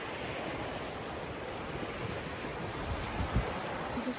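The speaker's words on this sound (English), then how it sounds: "Listen to the waves." Ocean waves roll in at sunset during an evening walk, a steady broadband wash of surf with wind buffeting the microphone and a slightly stronger surge near the end.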